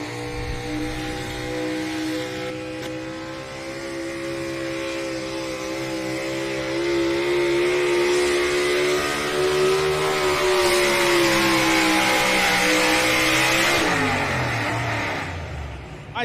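A pulling truck at the Thunder in the Valley 2024 pull in Rock Valley, Iowa, pulling left during its pass, roars with a loud sustained engine rev that climbs and holds before easing off near the end.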